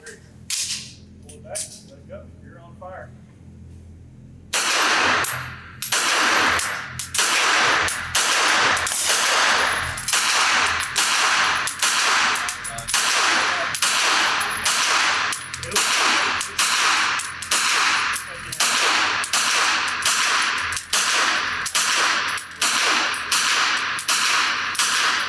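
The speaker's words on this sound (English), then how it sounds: "put about 20 or 25 rounds through this thing" A Grand Power Stribog SP9A1 9mm fires a long string of sharp, loud reports at an outdoor range, shots spaced evenly at a steady semi-automatic pace, after a few quiet seconds with faint voices.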